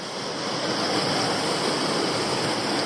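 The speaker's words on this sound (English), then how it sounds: "I'm at another little waterfall off the track. This is Untitled Falls" Untitled Falls, a small waterfall barely taller than a person on Toolona Creek in Queensland, pours in a steady, close, unbroken rush of water.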